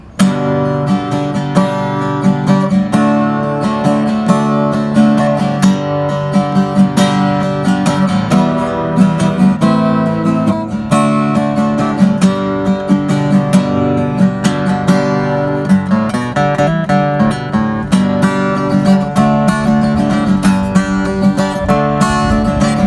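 Continuous strummed Yamaha F310 acoustic guitar chords, left unplayed for over 20 years, picked with a coin, bright and loud, with steady rhythmic picking throughout and no voices.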